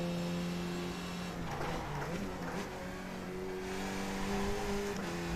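A race car in the iRacing sim braking hard into a corner, engine tone dropping and shifting steadily with harmonic whine, faint tire noise underneath, continuous and close with no talking.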